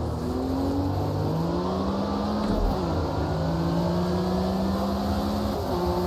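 A Porsche 911 RSR race car in the sim racing game Automobilista 2 at Spa-Francorchamps revs continuously, its engine pitch rising through the gears and dipping on a downshift, loud and steady with no talk.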